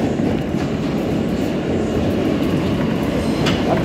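Inside an R160A E subway car, a continuous loud rumble of wheels on track carries through, steady and close, with faint clicking and a brief high squeal near the end.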